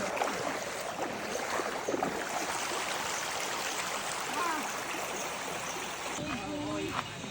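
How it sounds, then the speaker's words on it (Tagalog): Continuous rushing of a river crossed during an outdoor hike near falls, a broad steady wash of flowing water up close, with voices speaking briefly over it. "Dadaan tayo ng ilog"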